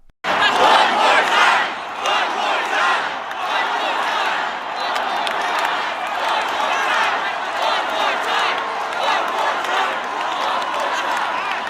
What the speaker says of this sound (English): And the crowd was definitely loud.